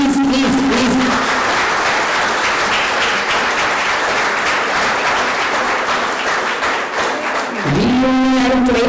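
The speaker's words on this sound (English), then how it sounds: "a big round of applause" Sustained applause from an audience at a chemical technology reunion and national seminar, steady and dense across the whole stretch, with a brief voice or tone cutting in near the start and again near the end.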